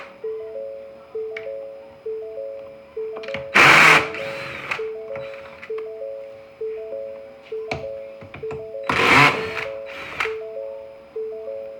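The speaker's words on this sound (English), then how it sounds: "I've already got a socket set up on my drill, 10mm, and I'm using the clutch" A power drill fitted with a 10mm socket and running on its clutch drives mirror screws during a 2018-19 Ford F-150 towing mirror install, its rapid ratcheting clicks pulsing steadily with two louder bursts of whirring.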